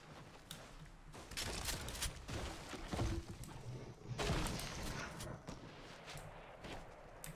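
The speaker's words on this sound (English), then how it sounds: "Gunfire from north." Sustained bursts of rapid gunfire crackle and thump continuously, with game-like explosions and impacts layered through a dense, busy mix, in Fortnite Battle Royale squads.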